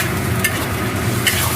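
A metal spatula scrapes the bottom of a hot wok while eggplant cooks in liquid, loosening browned bits with a steady scraping and bubbling, with a couple of sharp scrapes standing out.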